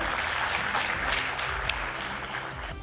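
An audience at a corporate event claps together in a dense, steady burst of applause lasting a few seconds, with no voices over it.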